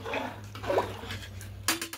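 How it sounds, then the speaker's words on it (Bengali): Starchy water drains from half-boiled rice in a pot, a soft running and splashing pour with a low background hum and a louder slosh near the end. "এবার জলটা ঝরিয়ে নেব,"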